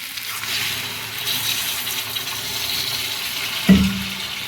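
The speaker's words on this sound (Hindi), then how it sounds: "पानी डाल देंगे" Water is poured into a pan of spiced paneer curry, a steady rushing, splashing flow heard up close, ending with a soft thud near the end.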